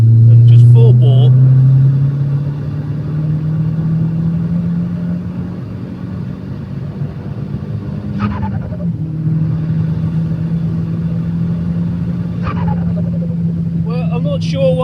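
A car engine with a MAF sensor fault and boost trouble is held at full throttle around 3,500 RPM, giving a loud, sustained drone that holds steady throughout while someone talks over it.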